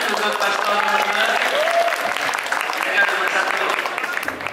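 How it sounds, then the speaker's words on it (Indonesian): Audience applause during a school student council candidate debate, a loud, sustained patter of many hands clapping in a hall, continuous for several seconds without pause. "berikan tepuk tangan untuk Pastor Nomor"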